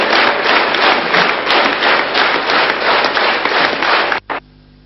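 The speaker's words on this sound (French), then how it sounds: "Jean Le Canuet, héros du jour à l'applaudimètre." A congress audience applauding its outgoing president, a loud, sustained wave of clapping with a rhythmic swell that cuts off abruptly near the end, with no voices over it.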